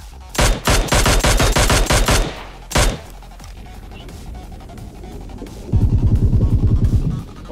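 Rapid automatic M416 fire with a red dot sight in PUBG Mobile on the Erangel map: a long, loud burst of closely spaced shots, then a lone shot, a pause, and another sustained volley that sounds slightly duller.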